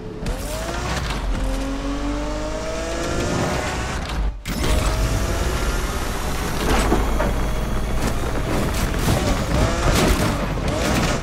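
Racing engine of a McLaren F1 in the Need for Speed Unbound video game, a loud continuous roar with rising and falling rev sweeps and gear-change dips, plus bursts of crackling impacts.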